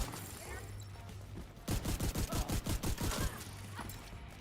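Automatic shotgun fire in a video game: a rapid burst of about a dozen heavy, evenly spaced blasts lasting under two seconds, loud and close over a low background hum.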